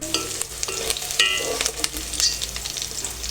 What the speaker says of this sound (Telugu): ఇలా కొంచెం ఫ్రై చేసుకోవాలి.